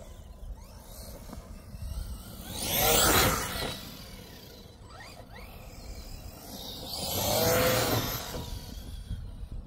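An ARRMA Outcast 4s V2.5 RC car drives outdoors, its electric motor whining up in two separate loud passes that swell and fade, with quieter running between them.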